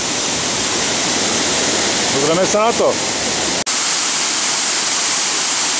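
Waterfall rushing steadily as broad, loud white noise that fills the whole clip, with someone speaking briefly over it.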